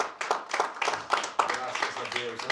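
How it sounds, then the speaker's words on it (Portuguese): Hand claps from a church congregation come in a quick, uneven patter under a loud voice, moderately close and partly masked by the talking. "Dá um aplauso a esse Jesus maravilhoso."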